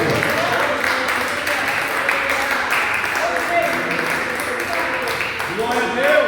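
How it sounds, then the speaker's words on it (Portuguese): Congregation clapping during an evening church service, a sustained wash of applause mixed with voices and musical tones that stays steady and close throughout. "Aplauda Jesus, bem forte nessa noite."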